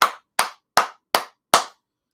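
Five sharp hand claps in a slow, even rhythm, close and crisp, with silence between each.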